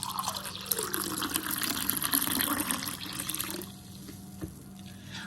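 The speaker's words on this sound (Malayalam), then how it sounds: "നമുക്കിതിലേക്ക് ഇനി നമുക്ക് ആവശ്യത്തിനുള്ള വെള്ളം കൂടെ ഒന്ന് ഒഴിച്ചു കൊടുക്കാം." Water pours steadily into a glass of gooseberry juice for a few seconds, then tapers off to quiet with a faint drip and clink.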